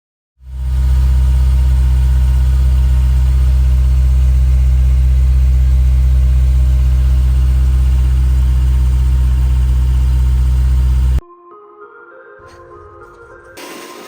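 A Honda S2000 engine idles with heavy exhaust drone, a loud, steady low hum starting abruptly and holding for about ten seconds, then cutting off to faint rattles and knocks.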